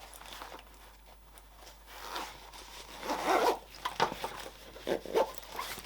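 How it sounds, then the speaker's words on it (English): A zipper is pulled along a heavyweight fabric clamshell sling bag, with close, scratchy zipping runs in several bursts that grow louder toward the end. "Let's just check we're happy with it zipping up first though."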